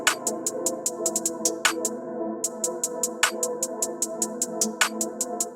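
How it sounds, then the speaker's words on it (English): A dark trap drum pattern programmed in FL Studio, crisp rapid hi-hats ticking steadily with a rim and clap layered on top and some distortion over a low sustained tone, playing alone. "Once I had the hi-hats, I just added the rim and the clap"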